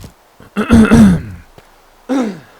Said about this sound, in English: I'm coughing straight into the microphone.